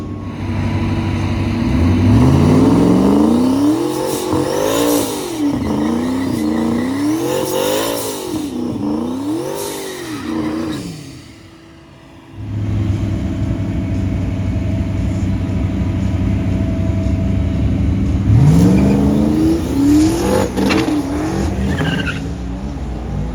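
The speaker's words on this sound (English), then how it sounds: "Chris is up with a single turbo on 3 car." A single-turbo car with a 6R80 transmission swap accelerates hard on a track day, engine revving in repeated rising sweeps with tire squeal and skidding, a brief lull, then another loud rising pull.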